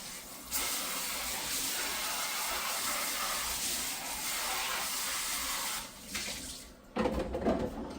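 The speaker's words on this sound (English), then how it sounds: "I'm going to go ahead and clear my bucket out and wash it" Water runs steadily from a sink tap as a bucket is rinsed out, a continuous hissing splash close by that falters briefly near the end before surging again.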